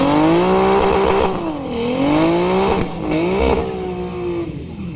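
Drag race between an Audi coupe and a BMW E30, one loud engine revving hard and climbing through the gears with audible shift dips, sustained and close for the whole stretch.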